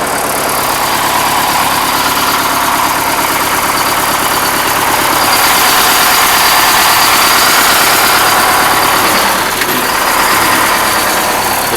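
Old diesel engine idling steadily and loudly nearby, a constant low throbbing rumble that fills the whole stretch without any talk.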